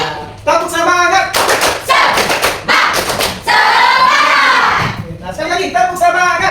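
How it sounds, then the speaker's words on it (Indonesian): Students in a classroom perform a rhythmic spirit clap, bursts of sharp unison claps in patterned groups alternating with children's chanted voices, loud and close. "Sekali lagi, tepuk semangat"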